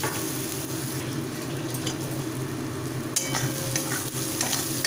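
Quartered tomato pieces sizzle steadily in a hot pan with a little sugar, a continuous frying hiss broken by occasional scraping stirs, close and even throughout.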